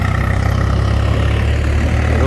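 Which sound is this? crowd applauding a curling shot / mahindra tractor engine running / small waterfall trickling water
mahindra tractor engine running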